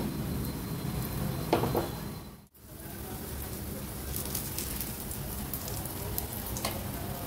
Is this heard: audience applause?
no